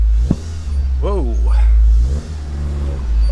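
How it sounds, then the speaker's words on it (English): A Suzuki Jimny engine idling high just after being restarted, a loud continuous low rumble with a brief rev swell, while a person talks over it. "she is revving a little bit high and the battery light is on"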